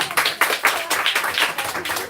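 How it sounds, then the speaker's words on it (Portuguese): A small church group at a Baptist Bible school claps in rhythm for Jesus, about a dozen quick, close, evenly spaced claps with a few scattered voices underneath. "Vamos aplaudir para Jesus?"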